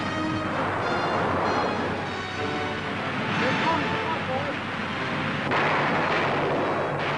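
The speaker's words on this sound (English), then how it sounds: "Tanks crawl in, spitting fire." WWII newsreel battle near Ortona, with tanks firing as they advance: a dense, continuous roar of booming gunfire and rumbling, loud and steady, with no clear gaps between shots.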